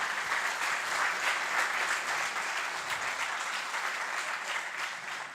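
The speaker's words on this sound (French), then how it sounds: "je vous demande de l'applaudir" Audience applause at a business club talk on digital platforms, a dense, even sustained clapping that carries at steady loudness before easing off slightly at the end.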